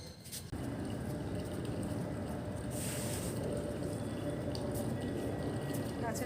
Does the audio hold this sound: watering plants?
yes